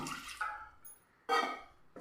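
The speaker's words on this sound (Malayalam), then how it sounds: "ഇനി നമുക്കിതിലേക്ക് ഒരു കാൽ കപ്പ് വെള്ളം ഒഴിച്ചിട്ട് മിക്സിയുടെ ജാറ് നമുക്കൊന്ന്" A quarter cup of water is poured into a mixer grinder jar while making wheat dosa batter, heard as two or three short, splashy pouring bursts separated by quiet gaps.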